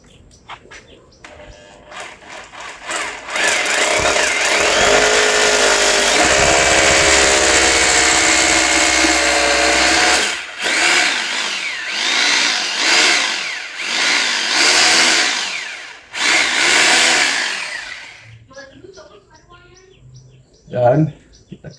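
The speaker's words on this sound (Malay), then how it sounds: "Kalau jom kita tebuk." A power drill bores holes in a wall to mount an Isano hose reel, a loud sustained whine running for several seconds, then several shorter bursts with pauses between them, and a sharp knock near the end.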